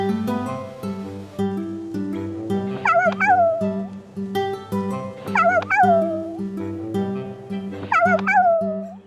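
A puppy whimpers and yips in three rising, squealing bursts under a train seat, set over a steady bed of tonal background music.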